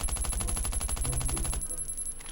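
Rapid automatic gunfire from the survival video game Last Island of Survival rattles in an even fast stream while a box is shot, then stops abruptly, leaving quieter game sounds.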